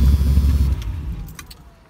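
A 1972 Vega GT with a swapped-in V8 engine is switched off: a loud, close low idle rumble stops abruptly partway through, leaving faint clicks and jingling keys as the sound dies away.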